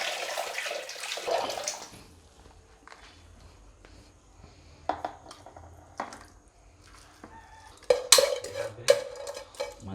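Water drains off soaked rice in a kitchen, with a rushing pour at the start, then quieter trickles and scrapes, and a few sharp metallic clinks of a pot near the end.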